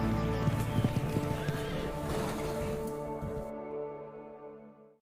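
At a horse sale, a horse gives a loud neigh and a whinny, with clip-clopping hooves mixed in, close and continuous before cutting off near the end.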